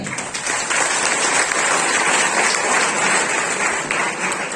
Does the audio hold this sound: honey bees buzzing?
no